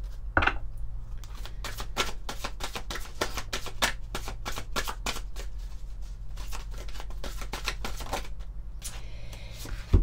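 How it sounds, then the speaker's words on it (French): Oracle cards being shuffled and drawn from a deck: a rapid run of crisp, close card riffles and flicks repeating steadily throughout, over a low constant hum, with no talking. "On va prendre une carte de l'oracle du pouvoir du lâcher-prise."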